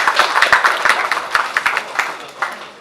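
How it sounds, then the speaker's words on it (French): An audience at a book launch ceremony claps in a dense, lively round of applause, with sharp individual claps over a steady patter of many hands and a voice faintly mixed in. "applaudissez la même très fort déjà"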